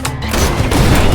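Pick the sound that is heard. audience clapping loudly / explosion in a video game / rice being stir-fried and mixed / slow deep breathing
explosion in a video game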